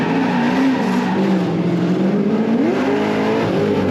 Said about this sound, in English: Red Chevy Corvette coming in